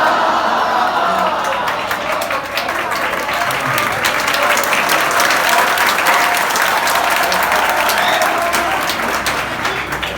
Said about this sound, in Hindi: आप उठ के तालियां बजाने लगे